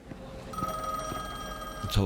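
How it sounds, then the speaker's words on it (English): An old telephone rings in the horror video game The Medium, a faint sustained bell tone held for about a second and a half before a louder thud of game sound cuts in. "The telephone ringing?"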